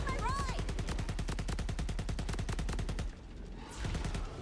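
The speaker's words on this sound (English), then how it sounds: "Stop shooting my ride!" Enemies in Borderlands 4 fire at the player's vehicle in a steady, evenly spaced automatic stream of loud shots, close and sustained for about three seconds before cutting off.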